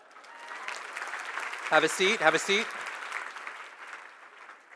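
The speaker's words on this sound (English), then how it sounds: "All right, clap if you went further a second time." An audience bursts into brief applause, a swell of clapping from many hands that rises and fades under a nearby speaker's voice.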